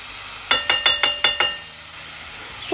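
Onions frying in hot oil in a pan, six quick sharp sizzling bursts in a row as they hit and are stirred, then a quieter steady hiss trailing off.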